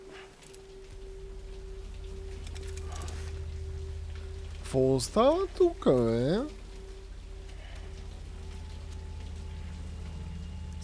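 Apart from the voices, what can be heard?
rain falling in the video game Death Stranding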